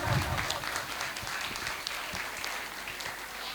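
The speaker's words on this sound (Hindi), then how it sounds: "एक बार अपने लिए जोरदार तालियां" Audience applause at a cultural program and group aarti during the Daslakshan festival, a sustained burst of many hands clapping in a hall, moderately loud and steady, tapering slightly toward the end.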